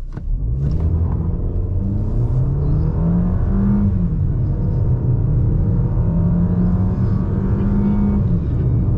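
Fiat Toro 1.8 in normal drive mode accelerating from a standstill toward 100 km/h, a steady loud engine drone rising and stepping through slow automatic gear changes, heard from inside the cabin.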